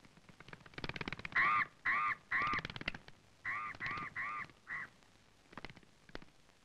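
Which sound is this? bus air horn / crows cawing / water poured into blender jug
crows cawing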